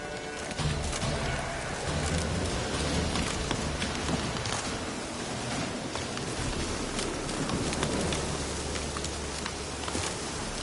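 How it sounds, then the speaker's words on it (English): Rain falls steadily in The Witcher 3 video game, a dense, continuous hiss with scattered drop ticks and a low rumbling bed, fairly loud throughout with no voices. "Looks like rain."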